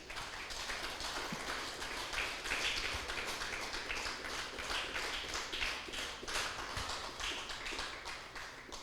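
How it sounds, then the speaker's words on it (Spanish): Sustained crowd applause at a church sermon, a dense wash of clapping that holds steady throughout without any talking. "Denle un fuerte aplauso al Rey"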